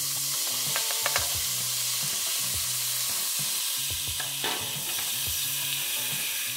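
Half a green and half a yellow bell pepper sizzle in a pan for bacalhau rice: a steady, even frying hiss with short scraping stirs and faint tonal hums underneath, no voices.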